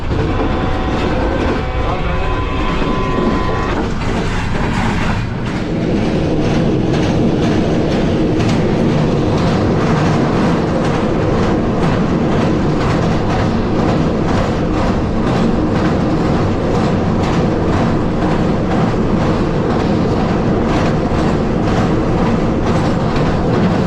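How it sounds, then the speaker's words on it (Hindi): A train runs through a railway station in Gujarat, heard from inside the guard compartment as a loud, continuous roar and clatter of wheels on track, steady for the whole stretch after a brief quieter start. "ट्रेन अभी हमारी पास थ्रू हो रही है गुजरात रेलवे स्टेशन पे"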